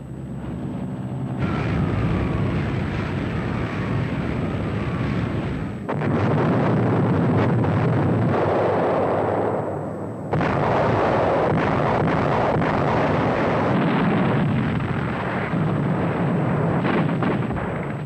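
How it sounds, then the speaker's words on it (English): Allied aircraft bomb a historic hilltop monastery during World War II in archival combat footage: heavy, continuous roaring blasts and rumbling explosions in loud bursts, broken by brief abrupt cuts between shots. "In desperation, the Allies bombed the historic monastery on the summit."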